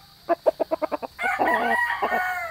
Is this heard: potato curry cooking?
no